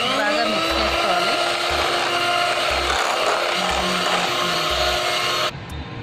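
A blender whirs steadily and loudly, mixing cream with condensed milk for homemade strawberry ice cream, a continuous motor drone that stops abruptly near the end.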